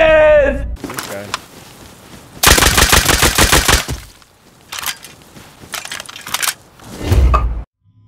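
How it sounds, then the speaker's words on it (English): Gunfire in the survival video game Rust comes in several loud bursts of rapid automatic shots separated by short gaps, with a voice heard near the start. "This is the same guy who keeps shooting me in the back."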